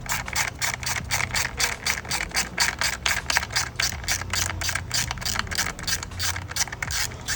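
Ratchet wrench turning an 8mm bolt on a Mazdaspeed 3 during a fuel pump job, fast, steady clicking strokes repeating close up for several seconds without pause.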